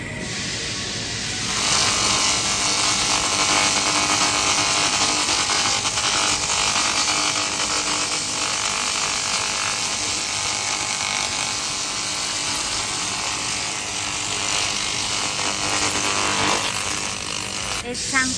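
Laser cleaning machines in a laser equipment factory, rated 3 kilowatts and 1.5 kilowatts, give off a loud continuous buzzing whine that holds steady for most of the clip against background factory noise.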